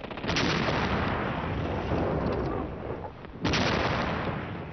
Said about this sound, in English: a short bombardment began the final destruction of France